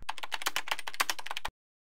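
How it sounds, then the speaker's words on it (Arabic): Rapid computer keyboard keystrokes while working in Revit architectural software, a dense run of close, crisp clicks lasting about a second and a half before stopping abruptly into silence. "نضغط على كنترول اف على الكيبورد"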